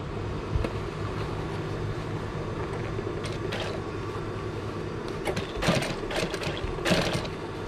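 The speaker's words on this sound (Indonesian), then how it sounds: "baru kita jahit lagi sekali" Sewing machine stitching a leather seat cover for gym bench upholstery, running as a steady mechanical hum with a few sharper bursts near the end, fairly close.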